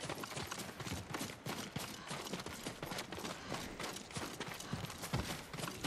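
Horses clip-clop steadily at close range in the Ghost of Tsushima video game, a dense run of hoofbeats continuing throughout with no talk over them.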